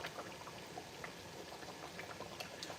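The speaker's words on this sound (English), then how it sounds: "We allow it to boil very well." Okra soup with kpomo and chicken boiling in a pot, a soft, steady bed of bubbling with scattered small pops and plops, faint and close, with no voices.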